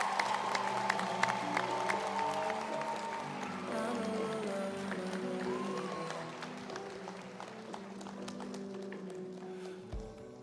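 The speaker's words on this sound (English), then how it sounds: "Please clap for yourselves." Graduation audience in the Kigali Convention Centre, Rwanda, applauding: dense, sustained clapping from a large crowd that holds steady for about ten seconds, with no talking over it.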